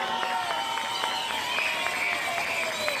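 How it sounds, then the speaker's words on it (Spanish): An audience applauds a vice minister at the launch event of the Pukllay 2024 carnival in Apurímac, Peru, a steady, dense wash of clapping that runs throughout, moderately loud and even. "Un fuerte voto de aplausos para el señor viceministro."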